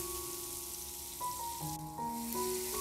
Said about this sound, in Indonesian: kita tumis bumbu yang sudah kita cincang kasar atau blender kasar tadi ya